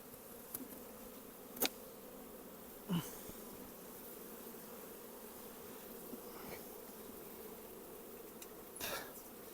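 A very large swarm of honey bees gives a continuous, even buzzing drone at moderate distance, with occasional faint knocks and rustles and no voices.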